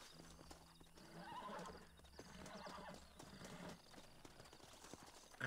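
A horse in the Western video game Red Dead Redemption whinnies and snorts amid clip-clopping hooves in the deserted town of Tumbleweed, with several loud calls rising over a busy game soundscape.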